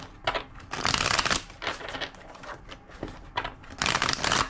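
Tarot cards being shuffled close up, several quick riffling bursts of papery flutter separated by brief pauses.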